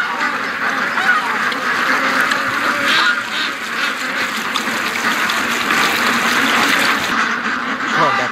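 A group of ducks near a lake quack continuously in a dense, loud, close chorus with splashing water underneath.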